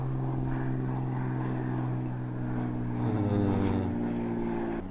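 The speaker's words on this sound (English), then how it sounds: "Wait for that plane to go by." A propeller airplane flies overhead above a burned California wilderness hiking area, its steady droning engine hum loud and sustained, with the pitch shifting slightly as it passes.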